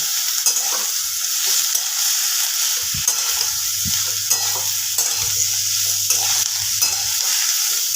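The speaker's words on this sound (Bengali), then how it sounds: "পেঁয়াজের সাথে খুব ভালোভাবে একটু ভেজে নিতে হবে" Chopped ridge gourd fries with onions in a pan, giving a bright sizzle broken by repeated scraping stirs of a spatula, close and clear.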